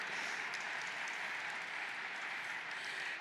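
Steady applause from an audience at a community celebration, even and sustained across the whole moment with no talking over it.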